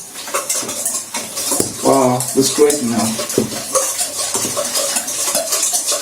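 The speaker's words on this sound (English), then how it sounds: "My eggs, melted butter. Just give it a quick mix." Eggs and melted butter whisked together in a bowl for pancake batter, giving brisk scraping and clinking of utensil against the bowl, close and fairly loud, while a person talks over it.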